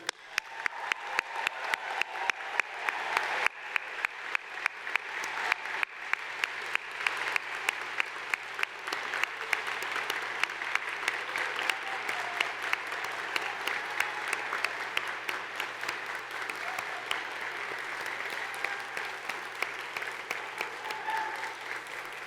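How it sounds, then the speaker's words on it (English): Graduates at a university convocation ceremony receive sustained audience applause, a dense steady roar of many hands clapping that carries evenly throughout with no voices on top. "Please join me in offering a final and well-earned round of applause and congratulations to this year's graduates."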